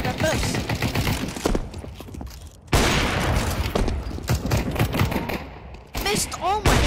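Rapid gunfire from the Counter-Strike 2 video game crackles in dense bursts and volleys, with brief gaps between them. Voices are heard intermittently over the shooting.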